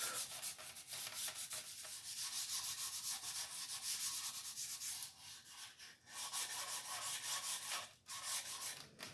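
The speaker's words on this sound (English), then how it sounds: "To prepare the surface for that, I go over the back of the neck with 400 grit sandpaper." 400 grit sandpaper rubs back and forth over the back of a guitar kit's wooden neck in a steady, close, continuous rhythmic scratch, with brief pauses between strokes.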